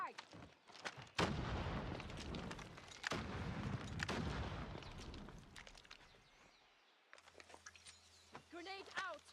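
Explosions and bursts of gunfire in the Call of Duty Mobile video game pound loudly in quick succession, then fade to quieter game sounds with chirpy effects, while voices talk over the action.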